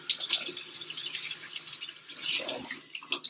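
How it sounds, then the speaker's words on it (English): Tap water runs into a sink while mushrooms are rinsed under it, splashing and gurgling unevenly for a few seconds, close and moderately quiet. "Just gonna rinse them off a drop."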